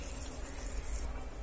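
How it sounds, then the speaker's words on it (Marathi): Hot water poured into a simmering matar paneer curry in a kitchen, a steady low gushing pour with bright hiss running continuously and fairly quietly, no voices. "थोडस गरम पाणी टाकून"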